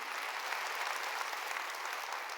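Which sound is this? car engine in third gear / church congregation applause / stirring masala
church congregation applause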